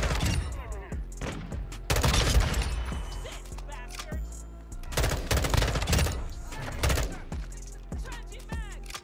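M16 burst rifle in the video game Modern Warfare 2, firing in rapid clustered bursts with sharp loud cracks separated by short pauses over game ambience.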